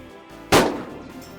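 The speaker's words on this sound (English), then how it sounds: "that's steady Dan shooting right now" A single loud gunshot from a hunter during a deer hunt cracks out abruptly against a quiet outdoor background and rolls off in a short echoing decay.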